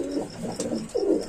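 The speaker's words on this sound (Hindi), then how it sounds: "ये कबूतर है आपका सहारनपुरी।" Soft, throaty coos of a Saharanpuri pigeon repeat in low rolling phrases, close by and fairly clear, with no talking.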